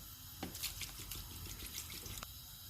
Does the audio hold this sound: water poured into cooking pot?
yes